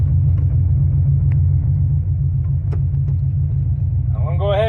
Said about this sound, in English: I'm going to go ahead and make a full pull and just show you the difference